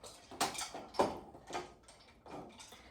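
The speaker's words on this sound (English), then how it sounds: "My dog is playing with her food" A dog noses and pushes at her food in a bowl, giving a series of clattering knocks and scrapes, roughly five uneven bursts close by in a quiet kitchen.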